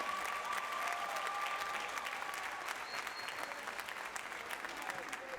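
A graduation crowd at a high school ceremony gives staff and faculty a long round of applause, sustained clapping that stays even and fairly distant from start to finish.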